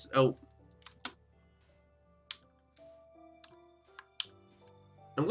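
Scattered keystrokes from a computer keyboard click sparsely and softly under quiet Minecraft game sounds, with a few sharper taps spaced irregularly.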